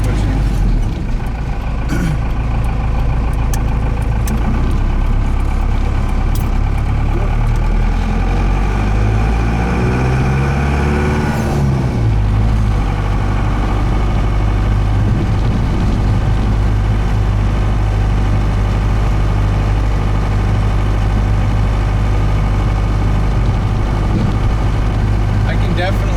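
Ford F-series or Bronco truck cruising at highway speed, a constant loud engine drone and road rumble with a brief swell of engine pitch partway through, someone talking over it.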